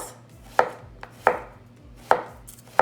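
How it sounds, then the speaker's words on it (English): A knife finely slices zucchini on a cutting board for a vegan Korean side dish, giving four crisp, close cuts at uneven intervals with quiet pauses between. "And we're gonna slice this very finely."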